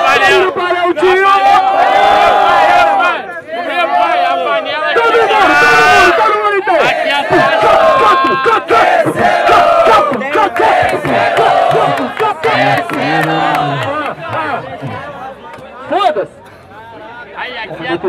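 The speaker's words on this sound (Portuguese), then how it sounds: "Barulho para Aldinho" At a freestyle rap battle in São Gonçalo, a close, dense crowd roars with cheers, yells and chanting for nearly twenty seconds. The noise stays loud and continuous, with voices shouting over one another throughout.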